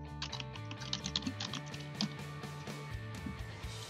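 Rapid keystrokes clatter on a computer keyboard, a fast, uneven run of close, crisp clicks that continues without a break and without speech.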